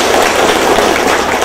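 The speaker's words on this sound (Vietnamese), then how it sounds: "Xin mời quý vị cho một tràng pháo tay chúc mừng" Wedding guests at a Vietnamese engagement ceremony applaud to congratulate both families, a dense, steady burst of clapping that fills the whole moment without a break.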